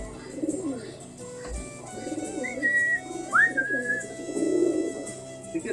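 Crossbred young pigeon and Australian dove coo softly and repeatedly at close range, with a couple of brief whistling notes between the calls.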